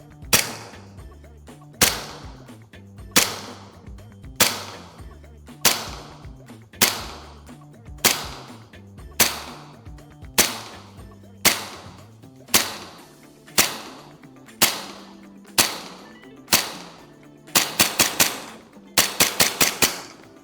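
A 1911 gas blowback airsoft pistol fires BBs in sharp, loud single shots spaced about a second apart, ending in two quick bursts of rapid shots close together, with no voices.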